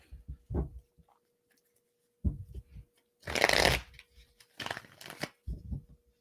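Tarot cards being shuffled by hand: a few soft taps and handling noises, then two loud riffling shuffles close up, followed by quieter tapping of the deck in a quiet room.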